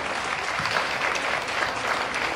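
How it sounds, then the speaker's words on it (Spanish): An audience at a primary school closing ceremony claps for the students, a dense and sustained burst of applause at an even level throughout. "Fuerte el aplauso para estos niños."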